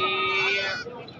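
A goat at a livestock market gives a single loud, close bleat with a wavering tone that fades after about a second.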